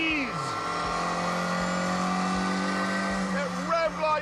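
A Ford twin-cam 1.6-litre engine revs hard in a driving video game with a steady, buzzing high drone that swoops in pitch at the start and end of each change.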